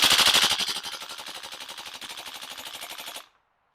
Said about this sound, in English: Here are some mag dumps in different weather and magazine temperatures.